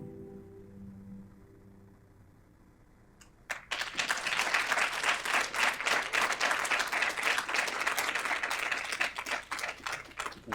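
Audience applause breaks out at an academic anniversary event on scholarship and practice, starting abruptly after a few seconds of quiet room tone and continuing as steady, dense clapping filling the hall.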